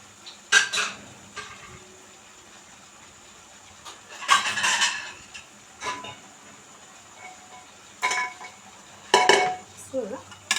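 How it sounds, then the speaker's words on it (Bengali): Pots and utensils clatter in bursts over a soft, steady sizzle of chicken pieces frying in a pressure cooker pot on high heat, with quiet gaps between the louder stirring scrapes. "আমি উল্টে পাল্টে সামান্য ভেজে নিলাম কয়েক মিনিট"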